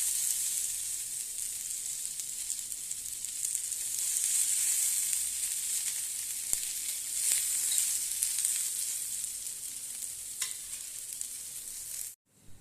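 Chopped onion fries in a little oil on a hot tava griddle, a steady close hiss of sizzling with occasional crackles, no voices, ending abruptly.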